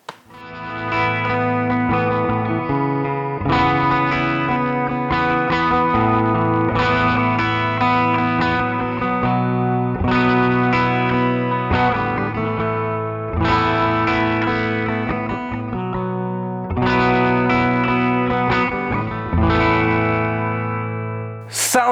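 Heavily distorted electric guitar, a 2023 Fender Tom DeLonge Signature Strat through a Fractal JCM 800 preset, plays chunky chords and riffs with amp-like crunch and sustain, loud and continuous without any talking.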